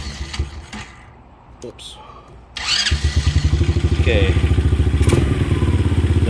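A Kayo 125cc quad's engine cranks over in a steady, rapid rhythm for several seconds without catching. It is close and fairly loud, with brief talk just before it starts.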